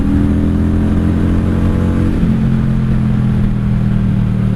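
A 1995 Honda Shadow VLX 600 motorcycle rumbles on the road, its V-twin engine droning loud and steady with a low throb and a slight shift in pitch partway through.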